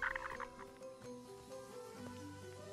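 A frog croaks in the video game Kena: Bridge of Spirits, a brief bright call at the start followed by soft tonal game music and a low drone.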